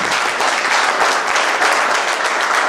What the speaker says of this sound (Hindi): एक जोरदार ताली आपके लिए होना चाहिए।